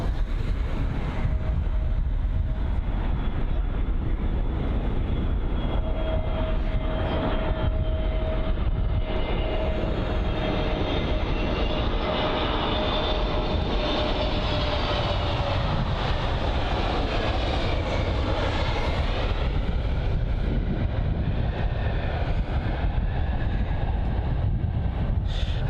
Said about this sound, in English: definitely not the smoothest landing there from the EasyJet A320neo that had just arrived from Glasgow